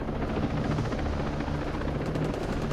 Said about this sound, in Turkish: Helikopter tepede.